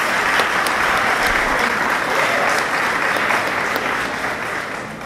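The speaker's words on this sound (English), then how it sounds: "you can clap if you like." A school audience applauds at an 8th grade awards ceremony, steady dense clapping from many hands that holds for about five seconds and eases off slightly at the end, with no talking over it.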